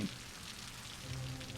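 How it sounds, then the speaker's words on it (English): Rainfall in the Cities: Skylines game world, a constant soft hiss of drops pattering on surfaces, steady and fairly close, with no talking over it. "And it's raining."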